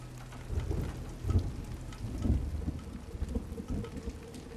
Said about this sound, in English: Maybe it's just thunder.